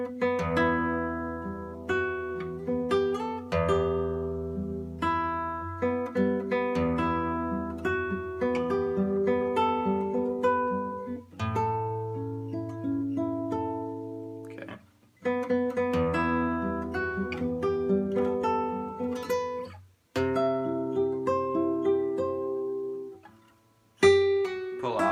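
A guitar plays a slow melody of single plucked notes and pull-offs, with brief pauses between phrases, close and clear without talking.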